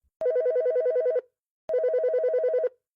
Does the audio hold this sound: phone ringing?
yes